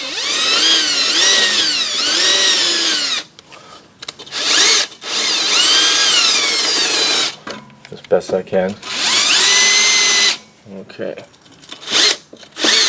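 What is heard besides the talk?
drill spinning on rusty stabilizer end link threads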